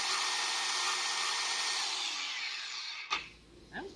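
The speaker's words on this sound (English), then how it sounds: "So there's a burr that you have to grind off" Grinder taking a burr off painted metal while working on a DB1 Integra, a loud steady high whine that holds for about three seconds, then cuts off and winds down, leaving a short quieter tail.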